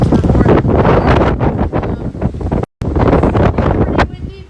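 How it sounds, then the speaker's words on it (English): Strong hurricane wind from Hurricane Ian gusts loudly and continuously into the microphone, roaring and buffeting throughout with one brief dropout, outdoors near Disney's Animal Kingdom. "It's pretty windy, but it's not the worst."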